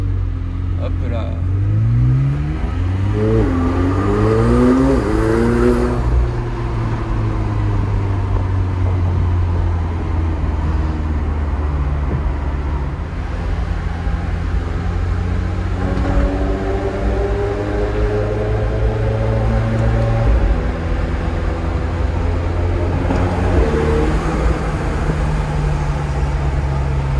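McLaren 720S supercar driving past the Place du Casino, its engine close and loud inside the cabin, rising and falling through several gear changes, with a steady road rumble beneath.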